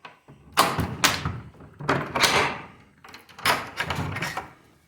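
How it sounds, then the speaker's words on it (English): A shop door heaved open in three bursts of rattling, scraping and thudding, each about a second long with short pauses between, close by and loud. "get the shop door open."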